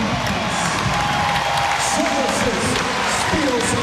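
A big crowd at a Hawaii versus UCSB Big West semifinal volleyball match fills the arena with steady, loud cheering and crowd noise, with a commentator's voice talking over it.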